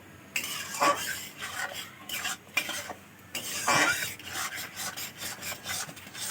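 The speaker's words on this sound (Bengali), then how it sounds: "দুধ দিয়েছি অল্প অল্প দিয়ে অল্প অল্প নেড়ে নেবো" A spoon works fried semolina and milk around a pan, giving repeated close scraping and rasping strokes in an irregular rhythm with no talk.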